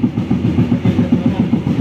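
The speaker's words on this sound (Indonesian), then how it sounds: "Ini kereta Manahan belok nih" Motis Tengah train near Manahan rolling along the rails, a continuous loud rumble with a regular clickety-clack rhythm heard from on board, no voices.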